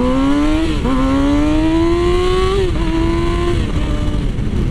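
Yamaha R6 sport bike accelerating hard through the gears, engine pitch climbing steadily with quick drops at each upshift, loud and close over wind noise, no talking.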